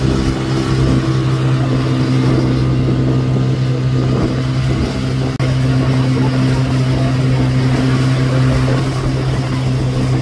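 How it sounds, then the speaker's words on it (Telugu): Motorboats coming and going near Malpe beach in Karnataka, heading to St Mary's Island, with a steady, loud engine drone running throughout and no breaks. "అలాగే వెళ్తున్న బోట్లు వస్తున్న బోట్లతో ఇక్కడ అంతా హడావిడిగా ఉంది."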